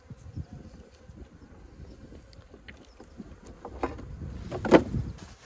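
Faint, intermittent bee buzzing drifts in and out over an outdoor strawberry patch, with a louder buzz passing close by near the end.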